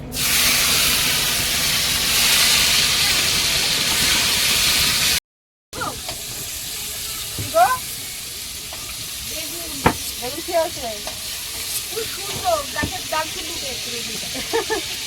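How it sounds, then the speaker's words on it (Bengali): Tomatoes fry in a pan aboard a boat during a Sundarbans picnic cook-up, a steady hiss filling the first five seconds, then a brief gap and quieter sizzling under scattered voices and clinks. "টমেটোগুলো একটু ভেজে নেব"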